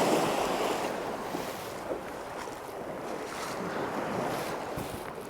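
Sea water sloshes and swirls steadily around legs wading slowly from a UK shore at night, with a constant wash of gentle surf and wind rumble across the microphone.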